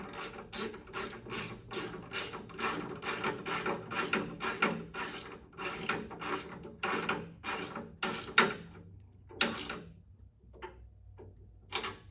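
Ratchet wrench tightening the bolts on a bolt-on adjustable pedal assembly in a 1979-93 Ford Mustang, heard as a steady run of quick, close clicking strokes that slow down and grow sparse near the end, with no talking.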